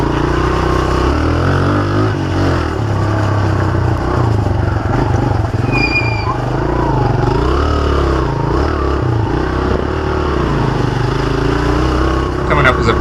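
A Honda CRF dirt bike churns through deep, knee-high muddy water, its engine droning loud and steady with revving swells throughout, while voices talk over it.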